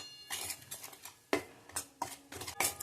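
Wheat flour is stirred into four spoons of ghee in a kadhai, giving a series of close, irregular metallic scrapes and clanks of a spoon against the pan, with no talk.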